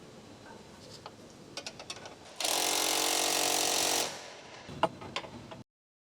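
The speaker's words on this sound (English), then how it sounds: "using 18mm socket with 21mm wrench to tighten rear control arm" A Ford Escape rear control arm bushing bolt tightened with an 18mm socket and 21mm wrench, scattered light metallic clicks and ticks around a loud steady mechanical whir lasting about two seconds, close in a quiet workshop.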